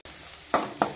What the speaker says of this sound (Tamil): வெங்காயம் நல்லா எண்ணெயிலே வதங்கணுங்க.